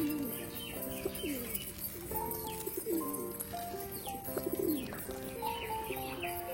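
Pigeons perched up high and on a roof cooing repeatedly in soft rhythmic bursts, with faint chirps from other birds, moderately distant and quiet.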